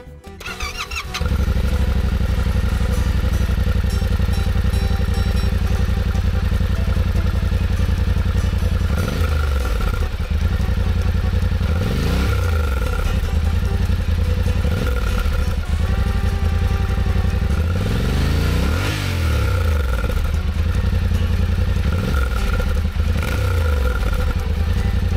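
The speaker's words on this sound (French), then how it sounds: "Alors écoutons le bruit moteur." A motorcycle engine runs steadily and loud throughout, with several rising revs that swell and fall back, close to the microphone and without any talk.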